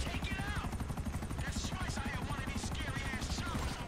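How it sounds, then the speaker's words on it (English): Attack helicopter in GTA 5 during the Merryweather heist, its rotor thudding in a steady rapid pulse throughout, close and loud, mixed with bursts of gunfire while players talk over it. "Okay, now there's a chopper coming around. Hey, you hear that?"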